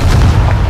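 A Confringo spell blast in Hogwarts Legacy lands as a loud, booming explosion with a deep low rumble that fills the short moment without letting up.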